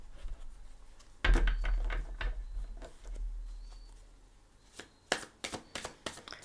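Tarot cards are handled close up in a quiet room, giving soft riffling, sliding and tapping sounds in a few separate bursts with pauses between them and no talking.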